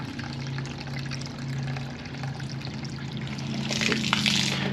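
Water runs through a hose filter into a bucket in a steady, close trickle with a low background hum. The flow sounds somewhat fuller and splashier toward the end.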